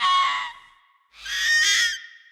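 Minecraft fox giving two loud, high, sharp screeches in quick succession, each a piercing shrill cry with a brief gap between them.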